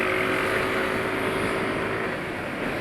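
An automatic scooter engine running on Shell Rimula R4X oil idles with a steady, smooth hum and a faint whine, constant in level and heard alone.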